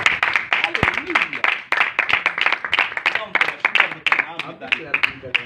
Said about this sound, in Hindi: यीशु मसीह की बरकतों के लिए एक बार जोरदार ताली।